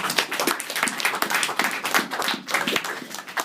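A church congregation applauds in a steady, dense run of hand claps that is loud and continuous throughout, with no voices standing out.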